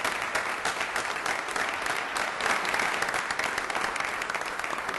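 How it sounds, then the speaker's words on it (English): Steady, dense applause from an audience at a city council meeting fills the whole stretch, an even roar of many hands clapping at close range with no speech over it. "One last round of applause for Charlie"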